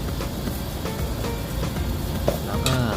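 Minced pork is stir-fried in a pan with a little water and salt, giving a steady, loud sizzle with scraping stirring strokes throughout and no talking.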